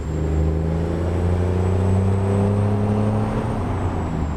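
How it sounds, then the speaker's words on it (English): A Haterbilt 389 truck hauling a reefer trailer in American Truck Simulator, its engine droning loudly and steadily with a slight pitch shift as it works through the gears, no talk. "Just really want to hear that engine shifting through the gears."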